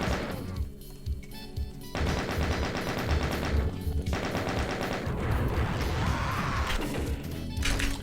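Rapid bursts of gunfire from the PC shooter Doom, played on the Ancient Aliens custom map, clatter almost without pause, loud and dense, layered over busy game music and impact crashes.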